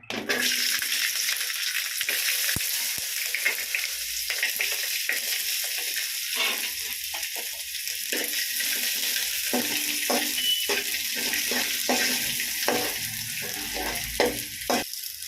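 Ginger and garlic fry in a pan with a continuous loud sizzle and occasional stirring scrapes, steady throughout.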